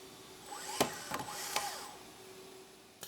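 A small rivet gun fires on camper shells in a workshop: a few sharp, close pneumatic bursts over a faint steady whine, then a last quick hit after a pause.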